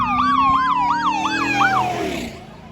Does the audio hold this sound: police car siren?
yes